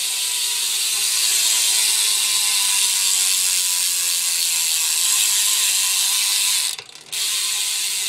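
Rapid, steady high-pitched buzzing of a Madera V2 bicycle hub freewheel with tension springs and no grease, loud and continuous, with a brief dropout near the end.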